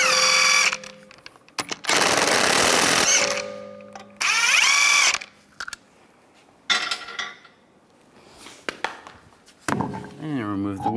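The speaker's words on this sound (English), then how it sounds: "use a 19mm socket, take the lug nuts off" A 19mm socket on an impact tool spinning lug nuts off a 2011-2019 Ford Explorer wheel, several loud bursts of whirring and rattling separated by pauses and clanks of metal.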